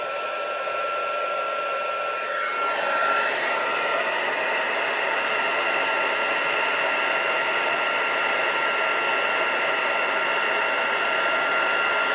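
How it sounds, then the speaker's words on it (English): A heat gun blows continuously and loudly while melting craft material, a steady hissing airflow with a whining motor tone that dips briefly early on, then holds unbroken with no talking. "let me just bring in my heat gun just to melt that"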